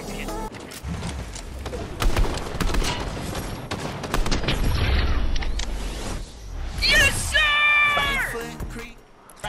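Rapid gunfire rattles in a video game battle against a tank, dense bursts of shots and booms with voices talking over the action and a brief whistling tone near the end.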